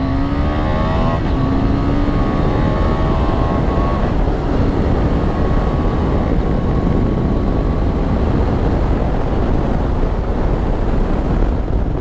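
A KTM 390 Adventure motorcycle fitted with a modified rear sprocket accelerates hard in a drag race, its loud, close engine roar climbing in pitch through the gears over steady wind rush.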